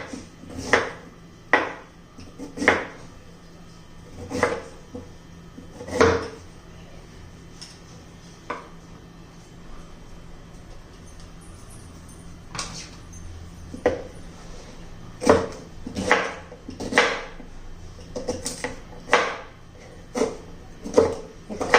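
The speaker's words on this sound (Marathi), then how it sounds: "आता याचे छोटे छोटे पीस करून घेऊ आपण" A peeled beetroot being cut into small pieces with a knife on a board, sharp chopping knocks in irregular bursts and clusters, close and clear against a quiet room.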